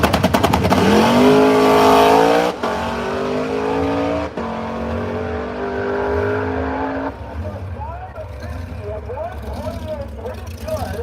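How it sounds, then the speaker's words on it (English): A 1955 Chevy drag car makes a run at Brainerd drag strip, its engine screaming loud through rising gear pulls with abrupt shift breaks, then fading off into the distance while a commentator talks over it. "The car he calls the Beast. The 55 Chevy"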